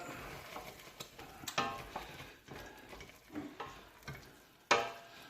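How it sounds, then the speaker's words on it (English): A spoon stirs chicken and chorizo risotto with Parmigiano in a pan, making soft scraping and sloshing strokes at a steady pace over a faint sizzle, with occasional sharper clinks against the pan. "Plenty of Parmigiano. Give that a stir."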